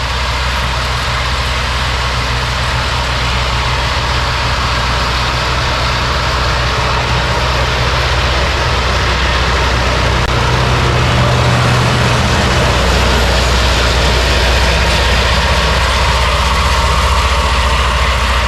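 A YUMZ-6 tractor engine with a rotary rake runs steadily at low revs during haymaking, its deep continuous drone loud and close for the whole stretch, with no talking.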